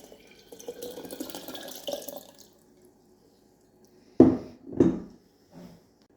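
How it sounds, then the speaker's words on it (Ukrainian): Cold well water pours into a glass jar of beetroot for beet kvass, with a soft trickle at first, then two distinct splashing gushes and a faint final splash against a quiet background. "заливаємо холодною водою"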